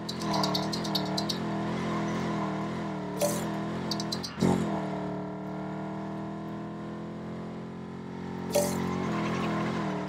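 LEGO 2K Drive car sliding through a drift: a steady, fairly quiet engine drone with wavering and rising pitch, broken by a few short bright bursts of noise.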